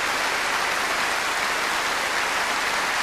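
Dense, steady applause from a large audience after a performance by a military band at the 2000 Stuttgart music parade, a continuous wash of clapping with no pauses.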